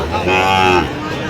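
A Sahiwal bull at a cattle market gives one close, loud, drawn-out moo lasting under a second. Low market background noise sits around it.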